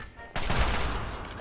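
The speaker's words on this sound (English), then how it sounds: "even the Eyebot's shooting me" An Eyebot in Fallout 3 opens fire on the player. A sudden burst of rapid gunfire erupts after a brief quiet moment and continues loud and dense until the end.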